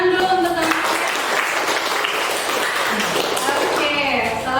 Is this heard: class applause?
yes